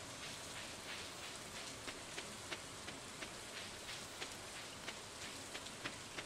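Steady rain from the video game Stardew Valley, a continuous soft hiss of falling drops with faint, regularly spaced patters on surfaces throughout, quiet and without voices.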